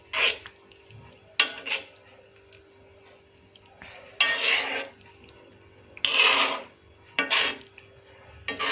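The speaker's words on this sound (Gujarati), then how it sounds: "હવે આને આપણે એકવાર હલાવી દઈશું." An onion curry with fresh cream is stirred in a pan, giving a run of separate scraping and rasping strokes with quiet pauses between them.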